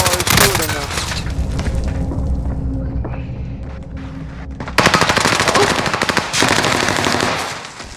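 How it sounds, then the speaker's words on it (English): Enemy gunfire in Call of Duty: Modern Warfare rattles in loud rapid automatic bursts with sharp shots and a heavy boom, while players talk over the shooting. "Oh, he's shooting now."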